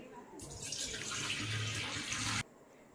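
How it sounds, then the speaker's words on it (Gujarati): Tap water runs for about two seconds while soaked chana dal is rinsed and drained in a kitchen, a steady gushing splash that stops abruptly, with faint room noise before and after. "હવે એને ધોઈ અને નિતારી લઉં પાણી કાઢી"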